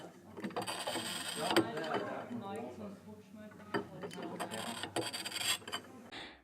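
A cheap bottle cutter scores a glass bottle, producing quiet, irregular rasping and scraping strokes with occasional small clicks of its moving parts.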